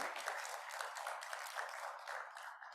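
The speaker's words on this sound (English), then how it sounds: "Big applause to our Troika." An audience at the C20 Civil 20 Summit 2022 at the Hilton Bali Resort in Indonesia applauds steadily, a dense, sustained wash of clapping throughout, moderately loud and heard alone.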